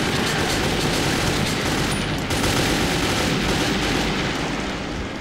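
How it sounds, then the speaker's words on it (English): Continuous dense gunfire in the video game Metro 2033, a loud unbroken rattle of shots that fills the whole span with no pauses and no voices. "You guys want to start shooting him?"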